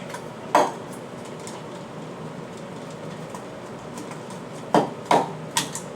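A whisk clatters against a bowl while ripe avocado is mashed for avocado toast, giving a few sharp metallic knocks, one early and a cluster near the end, over quiet room tone.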